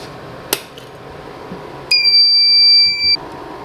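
A fire alarm system under test gives a sharp click, then a single piercing electronic beep lasting over a second, loud and close over a faint background hum.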